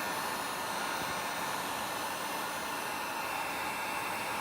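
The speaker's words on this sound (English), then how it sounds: "Okay, here's the heat gun. I'm gonna set it to the lowest speed." A heat gun set to its lowest speed, used for a direct-to-film inkjet transfer, blows a steady, even rush of hot air, a constant close hiss and whoosh with no talk over it.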